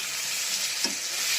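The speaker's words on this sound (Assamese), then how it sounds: "পিঠাখিনি ভাজা প্ৰায় হৈ গৈছে।" Assamese anguli pitha fries with spices in a pan over medium heat, giving a short, steady burst of bright, close sizzling with one soft stir midway.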